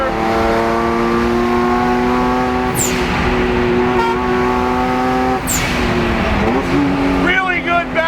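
A twin-turbo Porsche Boxster on a racetrack, its loud engine droning steadily, then revs shifting and rising toward the end, with someone talking over it throughout.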